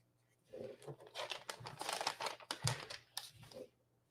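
A pen scratches and scribbles on paper in a weekly planner in quiet close-up, short irregular strokes with brief pauses between them.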